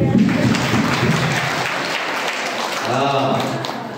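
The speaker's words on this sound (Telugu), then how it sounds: "మీకు మీరే చప్పట్లు కొట్టుకోండి." An audience at a spiritual discourse applauding, a loud burst of clapping that fades and then swells again, with a voice speaking over it.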